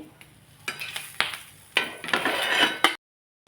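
Fried pav buns are lifted out of the pan onto a plate, heard as several close scraping and clinking utensil strokes over a faint sizzle, ending in sudden silence.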